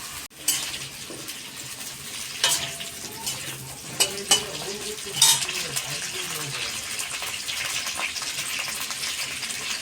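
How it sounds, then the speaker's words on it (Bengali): Potatoes frying in hot oil in a kadai, a constant close sizzle broken by a few sharp scrapes and clinks of a spatula against the pan. "তারপরে তেলটা গরম হয়ে গেলে আলুগুলো দিলাম। এবার ভালো করে আলুগুলো ভেজে নেব।"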